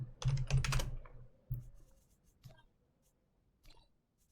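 Quick bursts of keystrokes on a computer keyboard clatter close by, followed by a few isolated taps spaced out over a quiet room.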